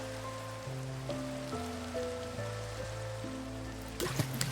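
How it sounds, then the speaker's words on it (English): Steady rain in Minecraft falls as a soft, constant hiss beneath background music with sustained tones. "Oh, it's raining!"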